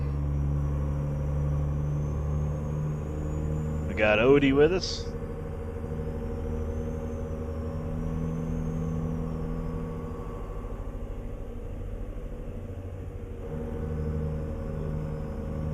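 Truck engine in American Truck Simulator fitted with a ZEEMOD sound mod, a steady low idle-to-cruise drone throughout with a brief louder shift around the middle, under someone talking.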